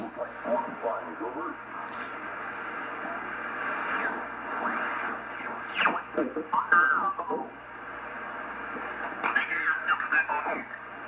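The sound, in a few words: upper sideband radio signal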